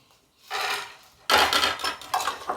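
Black chana roasting in a pan is stirred in two bursts of gritty, rattling scraping, the second louder and longer, close to the microphone with nobody talking.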